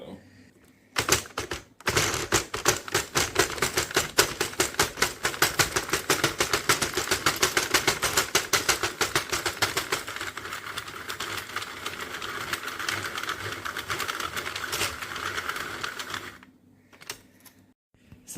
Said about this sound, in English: I just don't feel like it's worth it to put this heavier worsted weight yarn through my machine.